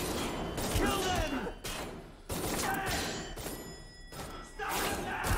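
Bursts of gunfire crackle in the video game Watch Dogs: Legion, several loud volleys separated by brief lulls amid a busy combat soundscape.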